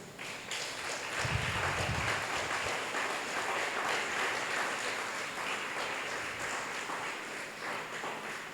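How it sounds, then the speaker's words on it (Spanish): A church congregation at an online service applauds for Jesus, a dense, continuous roar of clapping that sounds somewhat distant and washed out, holding steady throughout with a brief low thump near the start and no talking. "dale un fuerte aplauso a Jesús"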